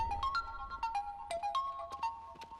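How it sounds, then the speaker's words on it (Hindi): A phone ringtone plays a bright, repeating electronic melody of short stepped tones, clear and fairly loud with no voices over it. "किसी का फोन है।"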